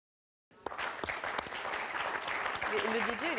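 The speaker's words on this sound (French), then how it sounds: "je voudrais qu'on applaudisse Nilda Ouziala." A TV studio audience on an Algerian talk show breaks into sustained applause for director Nilda Ouziala, starting abruptly after a moment of silence and holding steady and full, with a voice or tonal sound rising near the end.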